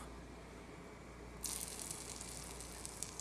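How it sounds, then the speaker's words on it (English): A steady hiss of frying erupts abruptly partway through as hush puppies drop into a deep fryer, broadband crackle and sizzle continuing close and fairly quiet after a near-silent start. "You're going to hear that nice little sizzle"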